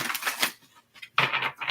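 Tarot cards shuffled by hand in rapid riffling bursts, two clusters of crisp card flutter separated by a brief pause, close and fairly loud.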